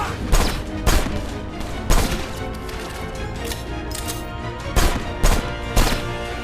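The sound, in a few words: gunfire from pistol and assault rifle in video game Left Alive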